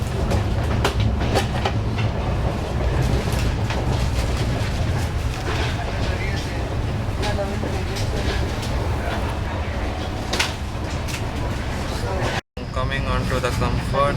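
A Tejas Express train running at about 90 km/h over the Zuari Bridge, with continuous loud rolling rail noise and rhythmic clatter heard from inside the coach, a brief dropout near the end.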